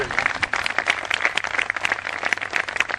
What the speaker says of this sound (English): it deserves a much bigger round of applause